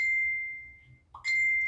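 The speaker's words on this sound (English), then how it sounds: "my phone is just going off" A phone notification chime rings out twice, a sustained bright tone that fades, then a short rising blip followed by a second ringing tone, close and clear in a quiet room with no talk.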